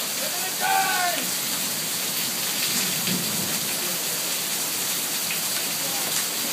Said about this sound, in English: It's a big hail.